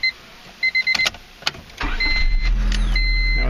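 A 2000 Honda Civic LX with a new battery and starter gives a few short clicks and cranking bursts, then catches and settles into a loud, steady idle with an electronic chime sounding over it.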